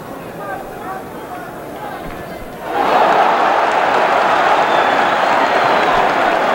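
A boxing arena crowd at a heavyweight bout roars up suddenly partway through, a broad sustained wall of cheering and noise following a quieter murmur, with a commentator's voice running beneath.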